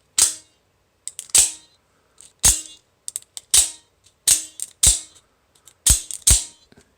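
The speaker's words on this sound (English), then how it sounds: "You can feel and hear this springy, the twangy sound from the spring." A series of sharp metallic snaps from an OTF knife's spring, about ten in uneven pairs and singles, each followed by a brief springy twang, close and crisp.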